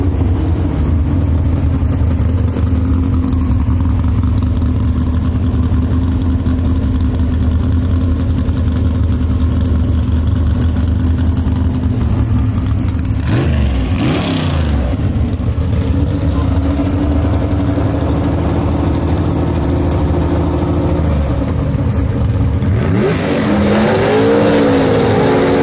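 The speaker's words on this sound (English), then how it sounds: "Ted McKee bouncing his way down the racetrack." A Chevy II gasser drag car with a Gene Fulton engine roars loudly and continuously down the track in a B/GAS class drag race at Shadyside, with short breaks in the engine note during the run.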